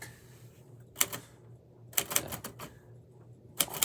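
Manual typewriter typing in red ink, with short clusters of sharp metallic key strikes separated by quiet pauses, fairly close and soft overall, and no voices.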